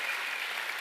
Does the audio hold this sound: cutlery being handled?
no